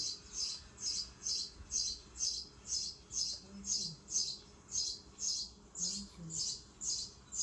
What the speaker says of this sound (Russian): Это воробей